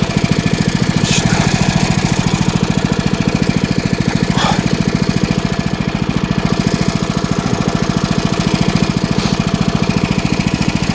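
A motorized snow dog's small engine runs steadily at a fast, even putter, loud and close, with faint clanks now and then, outdoors in snow.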